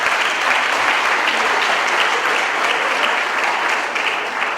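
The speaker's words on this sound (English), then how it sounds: "give you a big round of applause." A big, sustained round of applause from colleagues at a university gathering, dense and loud, filling the room evenly from start to finish with no voices on top.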